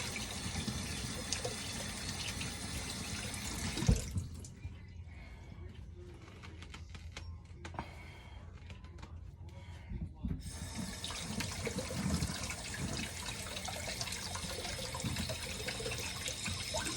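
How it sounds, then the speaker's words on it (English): Hot tap water runs steadily over the stuck lid of a Brer Rabbit blackstrap molasses jar, a close broadband splashing hiss that stops for several seconds in the middle and then resumes. "If the lid don't open, just run some hot water over it."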